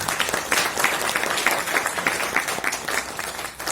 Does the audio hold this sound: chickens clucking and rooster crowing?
no